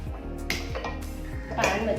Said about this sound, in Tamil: பேன் வச்சேன்.